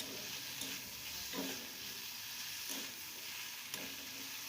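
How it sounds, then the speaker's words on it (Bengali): Tomato being stirred together with chopped vegetables in a pan for oats upma, a steady close sizzle with several soft scraping strokes of a spoon at irregular intervals, no voices. "সমস্ত সবজির সাথে ভালো করে নেড়ে চেড়ে নিয়ে"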